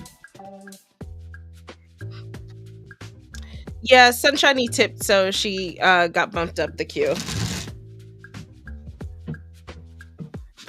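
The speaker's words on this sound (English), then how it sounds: "let me give this a quick shuffle" Tarot cards get a quick shuffle, a rapid riffling flutter of short papery clicks in the middle, with a person talking before and after.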